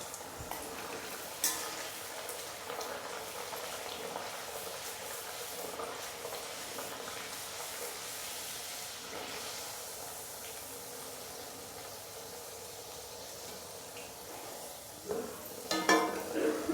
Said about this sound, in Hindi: ये तो एक कढ़ाई में हमने ऑयल रख दिया था गर्म होने के लिए, तो उसमें पूरी डाल देंगे हम